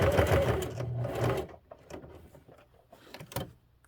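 A sewing machine stitches a curved hobo bag in a fast, rattling burst up close, then stops, leaving soft handling clicks and a brief final whir.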